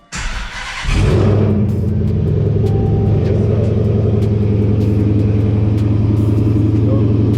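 A car engine with a six-speed gearbox starts up and revs inside a garage, heard through an open window as a loud, steady rumble that holds after a brief initial burst.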